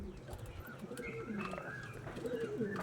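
Soft, throaty pigeon coos repeat through a steady low rumble, with a few faint chirps scattered across the clip.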